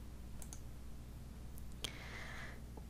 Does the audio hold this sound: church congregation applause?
no